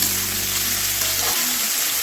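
Potatoes sizzle in hot oil in a wok, a steady, close frying hiss that runs without a break. A low hum in the background cuts out partway through.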